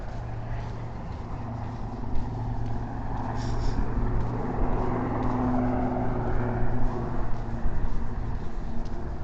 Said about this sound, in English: I guess that helicopter is coming to land.